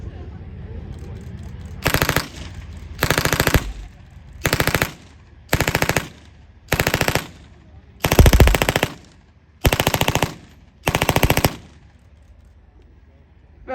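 Belt-fed 5.56mm machine gun at an outdoor firepower show, firing eight loud, close bursts of rapid automatic fire, each lasting about half a second to a second, separated by short pauses.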